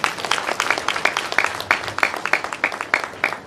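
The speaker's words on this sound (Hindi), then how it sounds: "मैं चाहूँगा प्रवीण सर के लिए जोरदार ताली हो जाए।" Applause at an event, with a modest number of hands clapping close by in loose, individually audible claps that keep a fairly brisk, uneven rhythm for a few seconds.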